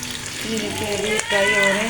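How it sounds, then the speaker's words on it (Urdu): Ridge gourd fries in a pan in a home kitchen, giving a steady, close sizzle and hiss that runs under continuous talking. "فرائی ہو رہے ہیں، ابھی لال نہیں ہوئے"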